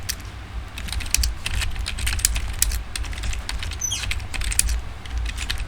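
Rapid, uneven clatter of keys on a computer keyboard, steady and close, running continuously over a low background hum, with no voices.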